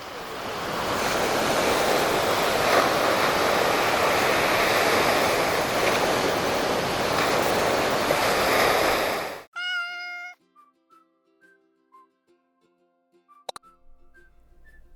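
Steady surf washes against a beach on a bright seaside day, a loud continuous roar of breaking waves that cuts off abruptly, leaving a few faint soft tones and clicks in near silence.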